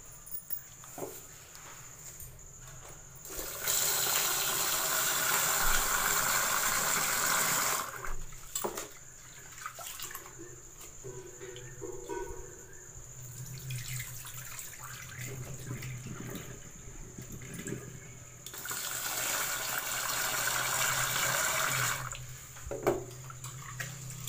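Ration rice and roasted dal being washed with water for sweet pongal, with running tap water in two long splashing bursts and quieter swishing and handling between them, fairly close.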